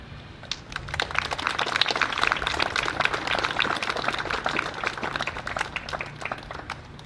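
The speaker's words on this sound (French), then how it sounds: "à Véronique, Raphaël et Charlène que je vous demande d'applaudir" An audience at a town ceremony unveiling a statue breaks into applause, with dense, sustained clapping from many hands at moderate distance and no talk.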